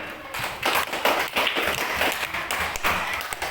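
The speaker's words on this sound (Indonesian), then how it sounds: "tepuk tangan untuk semuanya" A class of pupils applauds everyone in a school lesson, a busy, steady wash of many hands clapping at once, fairly close and sustained throughout with no voices on top.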